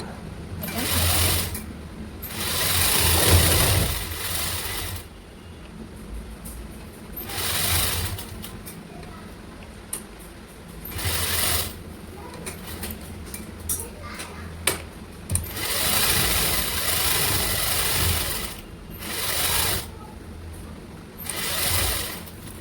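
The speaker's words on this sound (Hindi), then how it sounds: "फिर इस पर हम सिलाई मार देंगे" Sewing machine stitching a red lined blouse with a round neck, running in several bursts of steady whirring separated by short pauses, with someone talking in between.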